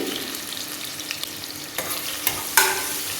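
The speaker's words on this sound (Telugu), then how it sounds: "ఆయిల్ వేడవగానే సన్నగా కట్ చేసుకున్న ఉల్లిపాయలు వేసుకోవాలి." Thinly sliced onions hit hot oil for mutton gongura, a close sizzle with scattered spatula stirs and a sharper burst of frying near the end, no voices.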